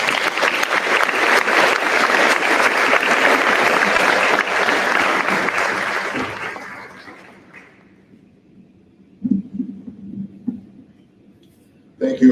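An awards-ceremony audience claps loudly for senior students. The dense applause lasts several seconds, then fades away, leaving a few scattered thumps and faint murmurs.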